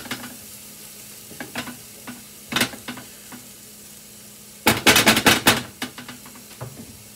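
Cauliflower rice stirred in a pan for keto cauliflower mac and cheese, with scattered scrapes of a utensil against the pan and a louder burst of rapid stirring midway over a low sizzle.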